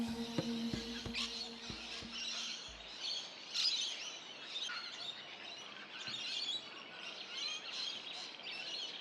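Birds singing and chirping at Warriewood wetland on a cool autumn morning, a steady chorus of small high calls layered over soft background ambience, fairly faint and continuous.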